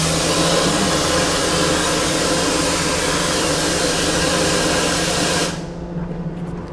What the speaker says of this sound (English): That's a 70 CFM blasting gun.